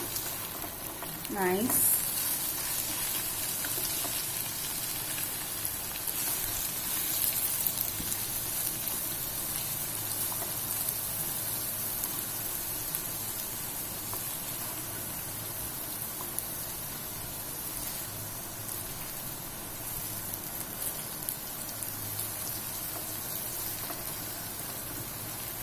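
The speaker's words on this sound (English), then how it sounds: "the bhendi look partially cooked, so I'm going to flip it" Stuffed okra (bhendi) sizzles and fries steadily in a hot pan while being flipped, a continuous crackling hiss throughout, with one brief spoken word near the start.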